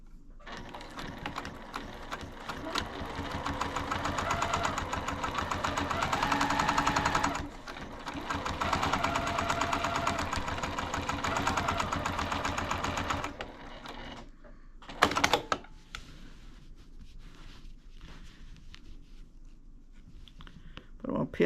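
A sewing machine stitches the seam of a jelly roll quilt, a quick rhythmic mechanical chatter running steadily in two long bursts with a brief pause between, then stopping, followed by quieter handling clicks and a sharp knock.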